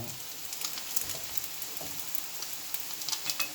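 Arepas frying in plenty of oil: a steady, fairly quiet sizzle and crackle with scattered pops, no voices.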